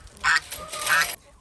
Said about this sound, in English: So I'm gonna get away from these loud geese.